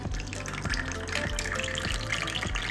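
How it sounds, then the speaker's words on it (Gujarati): Hot water pours and splashes steadily into hot oil in a pan, with a few soft knocks and gurgles, close by and moderately loud, no voices. "મેં ગરમ તેલ કર્યું છે એમાં ગરમ પાણી આપણે ઉમેરીશું"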